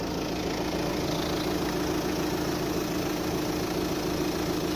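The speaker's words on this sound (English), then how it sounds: "So I put this rag onto the other exhaust, and find out whether it leaks or not." Engine idling steadily with a rag held over the other exhaust outlet of an eBay-bought exhaust backbox to test for leaks and gurgling, a constant low droning hum with no talk.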